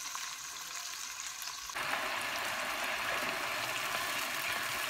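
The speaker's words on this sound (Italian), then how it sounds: "Vedete il polpo sta rosolando?" Octopus browning in a pan for a ragù, a soft steady sizzle that suddenly grows brighter and louder partway through, then holds as a continuous frying hiss.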